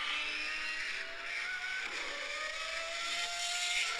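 A Mercedes V12 engine revving on a hypercar, a high, sustained whining howl with rising and falling pitch, loud and continuous without talk.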